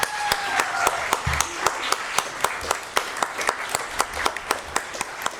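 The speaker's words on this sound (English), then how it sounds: "Please give me a round of applause for these 3." A small audience at a school district governing board meeting claps, sharp individual hand claps landing at an irregular, sparse rhythm through the room, moderately close with light background murmur.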